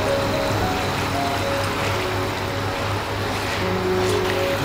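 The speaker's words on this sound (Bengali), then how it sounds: "মাঝারি আঁচেই দেড় কাপ জল দিয়ে দেব।" Water, about a cup and a half, poured into a soybean kofta curry over a medium flame makes a steady, close running and trickling sound that stays constant for several seconds.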